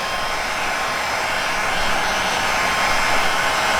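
Heat gun blowing steadily to warm 3M adhesive on carbon canards for an M340i rear bumper, a continuous loud close airy roar with no breaks.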